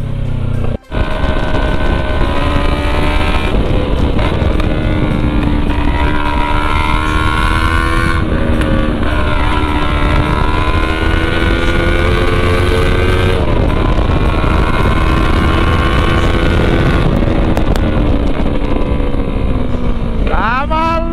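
A loud Kawasaki Versys motorcycle engine with only a bare exhaust pipe roars and revs continuously, its pitch rising and falling in waves, close by with a brief sharp drop near the start.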